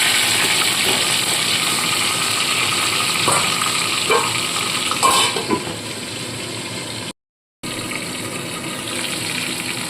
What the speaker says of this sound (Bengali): এবার কড়াইতে আরও বেশ খানিকটা তেল দিয়ে মাছের মাথাগুলো সম্পূর্ণ ভেজে তুলে নেব